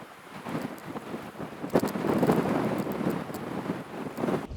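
Gusting wind buffeting the microphone on a boat out at sea while cod fishing over rough ground, a continuous rumbling roar that swells and eases, no speech.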